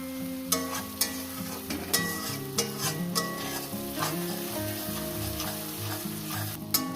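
Whole rui fish heads fry in hot oil for dal, cooked without onion or garlic, and get stirred in the pan. A steady close sizzle runs throughout, punctuated by regular spatula scrapes and knocks over a faint tonal background.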